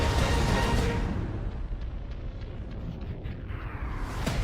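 Heavy rumbling roar as a Dreadnought warship launches a nuclear missile in the game Dreadnought, a loud sustained blast that swells, settles into a deep churning rumble, then surges again, with no voices.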